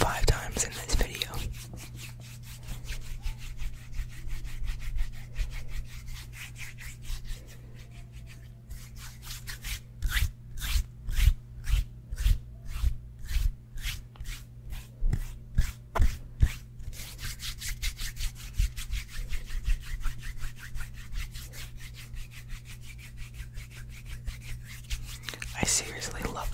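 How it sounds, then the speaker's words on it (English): Close-miked ASMR hand sounds, recorded on a Blue Yeti microphone: soft palms rub and swish continuously against a low hum. A middle stretch brings rhythmic, quick brushing strokes, and faint whispering drifts underneath. "Hand sounds."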